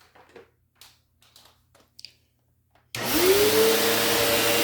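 A Bissell Cleanview Rewind Pet upright vacuum cleaner is switched on after a few soft knocks and handling noises, its motor spinning up with a rising whine into a loud, steady roar.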